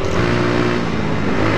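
Orkal NK01 125cc motorcycle engine running steadily while riding, a continuous loud droning hum with no talk over it.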